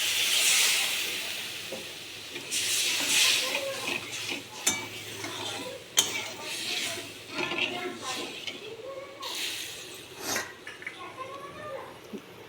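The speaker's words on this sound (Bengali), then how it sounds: "এবার একটু জল দিয়ে দিচ্ছি" Water splashes into spice paste frying in oil for a curry of banana-flower, potato and rice-paste fritters, setting off loud hissing, steamy sizzle in uneven bursts with stirring scrapes, easing and flaring again while a faint voice comes through in places.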